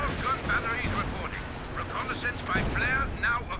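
Artillery barrage falling on enemy positions in Company of Heroes 2, a string of rumbling impacts and crackling gunfire in a busy battle mix, under a voice commentating.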